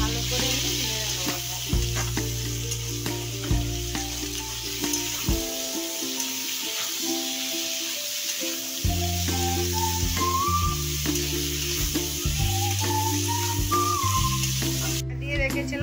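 Cubed potato and spinach stalks sizzle steadily in a pan, with occasional stirring scrapes throughout and a tonal melody running underneath.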